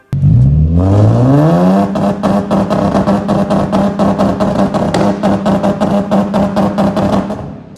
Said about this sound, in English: So the car has two-step. I'll put up a quick clip of that now.